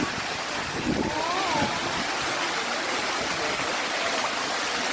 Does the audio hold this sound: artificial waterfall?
yes